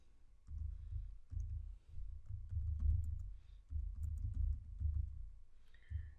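Keys clatter on a computer keyboard while someone types web code, a close, steady run of quick clicks in bursts with brief pauses, no voices.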